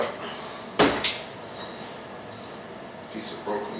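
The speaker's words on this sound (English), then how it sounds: "Piece of broken glass in there." A loose piece of broken glass rattles inside an old fluorescent ceiling light fixture as it is handled, giving a couple of sharp knocks followed by scattered light clinks and jingles.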